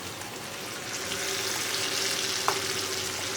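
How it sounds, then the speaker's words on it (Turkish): Tomato sauce sautéing in a pan gives off a steady, close sizzle and crackle that runs throughout, with one brief clink partway through and no talking. "Şimdi domates sosundan da bir güzel böyle kavrulsun arkadaşlar"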